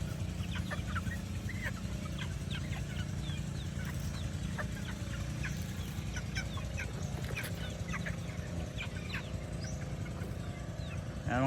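Gamecock rooster clucking and chirping in a busy outdoor setting, many short repeated calls scattered across the whole stretch over a steady background hum.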